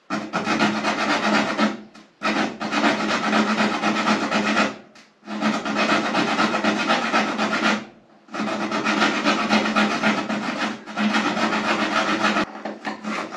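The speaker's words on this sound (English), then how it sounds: "I'm just going to gingerly cut this" Hand cutting with a saw, long loud rasping strokes in four sustained bursts separated by short pauses, close up with no talking.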